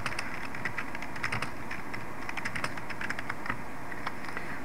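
Rapid keystrokes on a computer keyboard as Java file-handling code is typed, an irregular run of close, crisp clicks over a steady low background hum with no talking.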